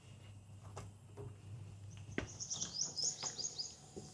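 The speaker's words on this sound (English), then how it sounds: "I can hear some birds are chirping," Birds chirp and tweet outside on a luxury villa terrace in Dubai, a run of quick, bright calls rising in the second half over a soft outdoor hush, with a few faint clicks.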